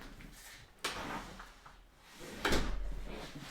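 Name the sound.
door opening via smart access control lock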